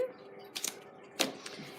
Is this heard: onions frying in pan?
no